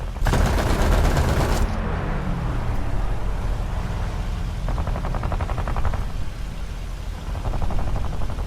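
In War Thunder's Battle of the Coral Sea, a TBF Avenger's belly gunner fires three rapid machine-gun bursts, one early and two later, over a constant roaring aircraft engine drone.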